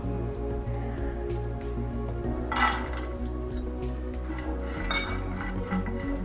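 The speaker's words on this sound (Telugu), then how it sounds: "లైట్గా కొబ్బరి వేయించుకుందాం" Coconut lightly roasting in a pan for home-made ragi laddu, with a metal spoon clinking and scraping against the pan in irregular strokes under a low steady background hum.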